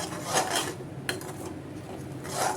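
Spoon scraping and rubbing through thick Andhra kara chutney with ground chilli in a pan, a steady close metallic stirring with one sharper clink partway through.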